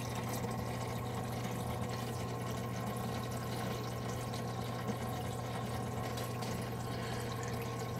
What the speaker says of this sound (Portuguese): Água circulando.